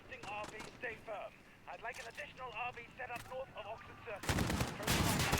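Gunfire in Call of Duty: Modern Warfare, set in London, with voiced in-game speech in the first part giving way to a dense, loud burst of rapid shots near the end.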